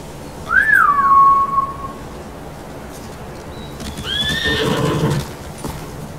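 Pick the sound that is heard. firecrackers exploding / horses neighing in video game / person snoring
horses neighing in video game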